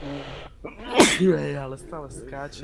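A single sharp sneeze bursts out between casual speech during a Portal 2 co-op play session, with voices talking before and after it.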